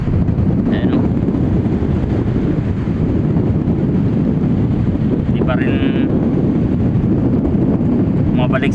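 Steady, heavy amihan (northeast monsoon) wind buffeting the microphone at a baklad fish trap, a constant low rumble throughout, with brief Tagalog speech breaking through now and then.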